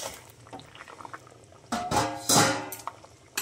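Potatoes bubble in a pot of Bengali fish curry, a soft, steady simmer with small pops that swell into two louder, busier bursts of bubbling near the end.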